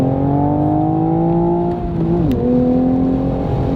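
A manual Toyota A90 Supra pulls hard from inside the cabin with a loud, steady engine drone that climbs, briefly dips at a gear change, then carries on strongly.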